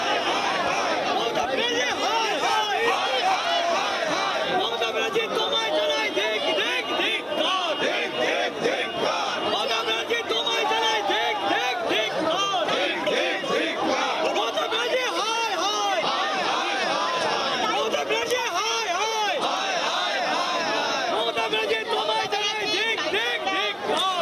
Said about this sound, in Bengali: সিইও দপ্তরে ইতিমধ্যে বিএলওরা যারা রয়েছেন তারা বিক্ষোভ দেখাচ্ছেন